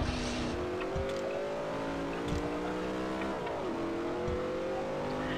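Car engine in a night-patrol role-play video game, revving steadily with rising and falling pitch as gears shift, continuous and moderately loud, with no speech over it.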